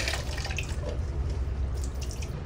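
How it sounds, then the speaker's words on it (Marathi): Water sloshes and splashes in a container as raw chicken is rinsed by hand, with running and dripping water close by. "चिकन धुताना 1-2 पाण्यातून असं स्वच्छ काढून घ्यायचं, 3 वेळा वॉश करून घेऊया चिकन।"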